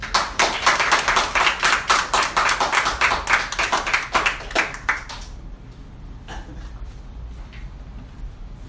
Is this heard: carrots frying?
no